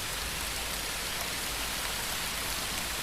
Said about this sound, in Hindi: उस रात तूफान और बारिश शुरू हुई।